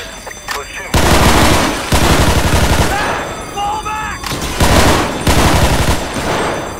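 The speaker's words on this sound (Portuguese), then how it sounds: "eles estão atirando de fora" Loud bursts of automatic gunfire during a gas station robbery in a realistic video game, several heavy volleys separated by brief pauses, with faint radio-like chatter and tones between shots.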